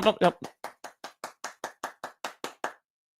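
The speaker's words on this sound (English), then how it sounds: "Nope, I'm not done clapping." Hand clapping: about a dozen sharp, evenly spaced claps over roughly three seconds, the first two loudest, then steady and slightly softer until they stop abruptly; close and dry with no other sound.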